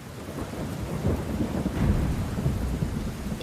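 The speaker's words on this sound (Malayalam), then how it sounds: "ഈ ഇടിയും മിന്നലും എനിക്കെല്ലാം പേടിയാ" A thunderstorm rolls on with deep thunder rumbling and swelling beneath steady heavy rain, loud and close with no voices over it.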